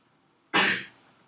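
A single sudden sneeze bursts out of near silence, sharp and breathy, then trails off quickly.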